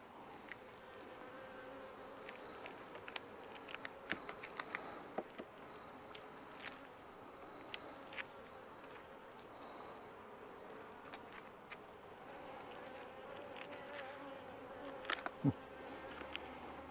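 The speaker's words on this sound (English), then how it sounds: "I've got one bee that's not my friend." Honeybees around a neighbour's backyard hive give a continuous buzzing drone, with individual bees flying close past the microphone in brief louder passes and a few light knocks and taps mixed in.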